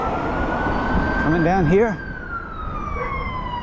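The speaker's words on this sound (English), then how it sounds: "There's an ambulance." Out on a street walk, an emergency vehicle's siren wails in a short rising and falling burst as traffic hums steadily underneath, while someone speaks briefly over it.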